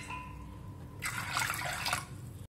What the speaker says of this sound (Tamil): இப்போ பருப்பு மூழ்கிற அளவுக்கு தண்ணி ஊற்றிக்குவோம்.